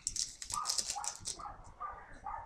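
Several dogs in a home yap and bark excitedly in a quick burst near the start, followed by a few whining, whimpering calls over a low background.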